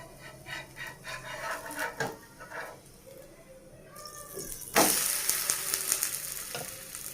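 Ghee sizzles and spits in a hot pan, a crackling frying hiss with scattered pops that swells suddenly louder and brighter partway through, heard close up with no talking.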